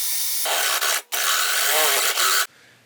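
A loud, harsh power drill grinding into steel while fitting a seat bracket in a camper van, running steadily with a brief pause midway before stopping abruptly.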